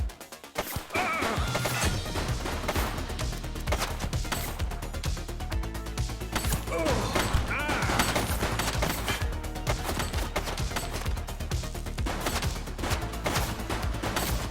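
Gunfire erupts in the police video game The Precinct, a dense, loud barrage of sharp cracks and crashing impacts that continues almost without pause.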